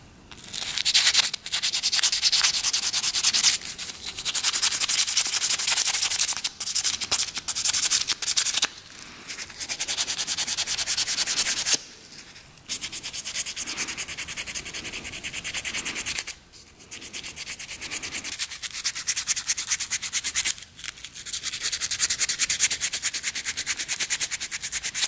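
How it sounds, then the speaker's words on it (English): Sandpaper is rubbed by hand over a part from a 1967 Yamaha motorcycle, a barn find that sat for over 40 years. Close, rasping back-and-forth strokes go on steadily for about 25 seconds, broken by a few short pauses. "This one just needs to be sanded off a little bit."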